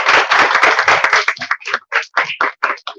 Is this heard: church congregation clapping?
yes